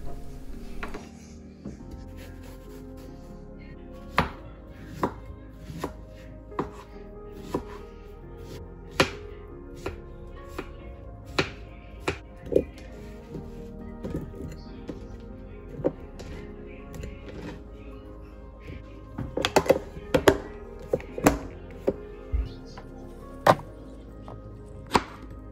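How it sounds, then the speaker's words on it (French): A knife chops through two melons on a cutting board, giving a long series of sharp, irregular thunks, a cluster of them coming quickly near the end, over a low steady background with no talk. "on va partir sur ça, sur la découpe de ce melon, enfin de ces melons"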